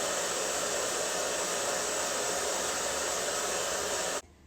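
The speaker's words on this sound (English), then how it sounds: "So let's go ahead and do a little blow drying." A hair dryer blows steadily at high power, a loud close whooshing roar that holds unchanged for about four seconds, then cuts off abruptly into near silence.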